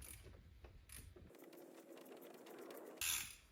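A ratchet wrench tightens bolts during reassembly, giving quiet, rapid mechanical clicking in short bursts at close range, with no one speaking.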